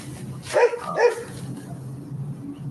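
Two short dog barks sound at a distance, fairly faint over a steady low background hum, then the hum continues alone.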